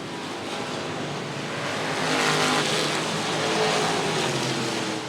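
Race cars roar around the oval at Cotton Bowl Speedway, a steady loud engine drone that swells as cars pass, with faint tire noise and no talk.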